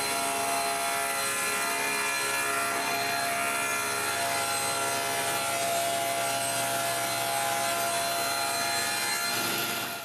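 A saw cuts two sheets of half-inch plywood to size for a folding wall shelf, a loud, steady rasping whine running unbroken for the whole stretch with no voices.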